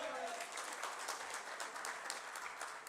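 Steady, fairly faint applause from an audience at a get-together, an even, continuous clatter of many hands heard from a distance for the whole stretch, with no voices over it.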